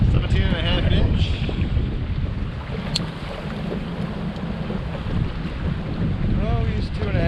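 Heavy wind gusts across Paw Paw Lake while bass fishing from a boat, a steady loud rumbling buffet against the microphone with faint voices under it.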